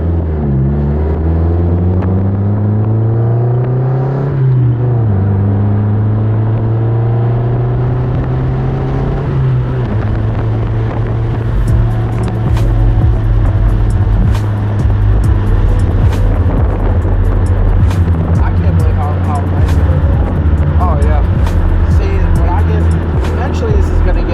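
Engine of a modified Toyota car with a swapped 3S-GT turbo motor, labouring as it pulls away in rough first gear; a loud, steady low drone with rising then settling pitch, close by throughout, with a voice talking over it.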